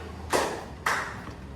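Students clap together on a teacher's count, two distinct crisp claps about half a second apart, each a short bright burst against a quiet room.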